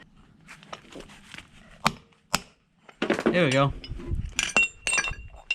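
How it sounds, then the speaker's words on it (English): Hammer blows knocking an old front lower control arm bushing out of a BMW E46 325xi arm: several sharp metallic strikes with pauses between, close and loud, followed by someone speaking briefly. "Try to hammer this out the rest of the way."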